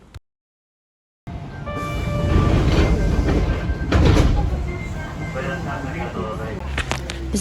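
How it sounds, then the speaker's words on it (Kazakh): A metro train in Japan rumbles steadily up close, with a thin electric motor whine riding over the low roar and a few sharp clatters near the end. Muffled voices may sit faintly beneath it. "Жапонияда адамдар метроны кезекте тұрып күткенді жақсы көреді екен."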